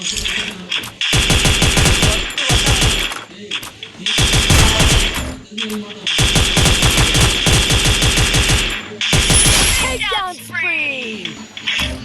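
Shooter video game gunfire comes in loud, rapid bursts of automatic fire separated by brief gaps, and a few whooshing effects follow at the end.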